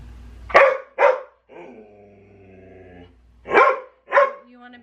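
A greyhound barking close and loud, with two pairs of sharp barks separated by a drawn-out whiny howl-like whimper between them, and no talking.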